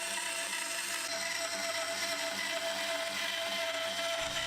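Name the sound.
bandsaw cutting out bird house box shape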